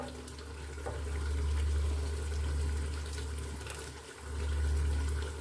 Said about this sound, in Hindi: इसमें मैं पानी डाल के